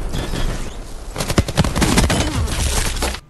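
Close-range LMG fire in Black Ops 4: a dense, loud burst of rapid shots rattles for about two seconds after a short stretch of rumbling background, then cuts off abruptly.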